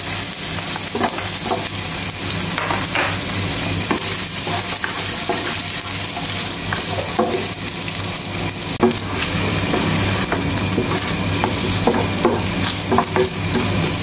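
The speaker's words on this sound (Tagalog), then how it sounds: "Maglagay na muna tayo ng mantika mga ka-TV friend. At unang igigisa po natin ay ang ating luya." Ginger sizzles in oil in a pan for chicken feet tinola, a dense steady frying hiss with a low hum beneath and light scraping stirs scattered throughout, close up.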